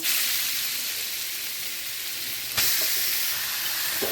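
A steady, bright sizzle of grated carrots frying in hot ghee in a kadai, which briefly jumps louder partway through as more hits the pan.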